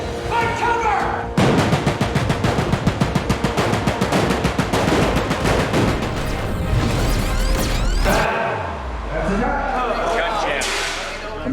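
Rapid bursts of staged automatic gunfire rattle loudly on the film set of Oblivion (2013), punctuated by crashing blasts and a deep booming explosion, with shouting voices mixed into the chaos.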